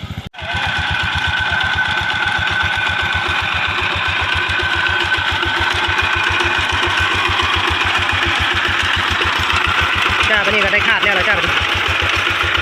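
A farm tractor engine chugs steadily at close range with a fast, even thumping rhythm that holds loud for the whole stretch, while people talk faintly underneath.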